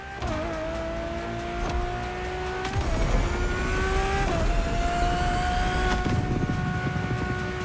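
A Ferrari Enzo's engine in the racing game The Crew Motorfest roars continuously, climbing through revs with shifts and brief tire squeal, loud and close throughout.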